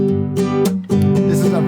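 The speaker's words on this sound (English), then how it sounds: "Now the first one I call a mute strum." A guitar is strummed with fingernails and thumb while the palm mutes the strings, giving a few short, choppy chords close up over under two seconds.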